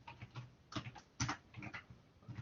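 Quiet clicking of a computer keyboard, keys tapped in irregular short bursts close by, with no speech over it.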